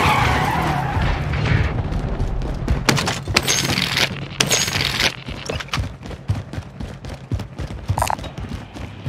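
A vehicle driven in the video game Call of Duty Warzone: loud continuous engine and tire noise with skidding, bumps and rapid clattering bursts, heard alone without speech.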